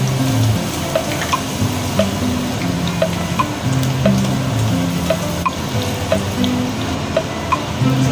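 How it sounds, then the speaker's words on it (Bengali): Luchi, puffed flatbread, fries in hot oil in a wok with a steady, crackling sizzle, while small clicks and ticks from kitchen utensils sound through it and no one speaks. "এখন এই যে লুচি ভাজা শুরু করে দিয়েছি"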